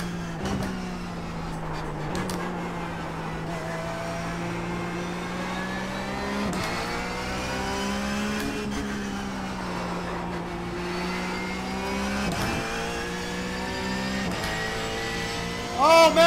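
Race car engines in the iRacing sim, a steady droning engine note with periodic gear-shift dips and rising revs, continuous and close, with a brief louder burst at the end.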